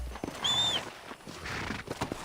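A horse in Red Dead Redemption whinnies in a short high neigh, then clip-clops forward with a few soft hoof beats in the game's quiet outdoor ambience.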